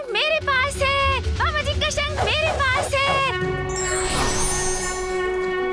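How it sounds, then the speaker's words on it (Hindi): Voices speak and exclaim at first, then the conch of Lord Vishnu sounds in a mythological drama set near Kailash: a long, sustained, horn-like blast that swells and carries over a reverberant background. "ये तो आपके ही शंख की ध्वनि है स्वामी।"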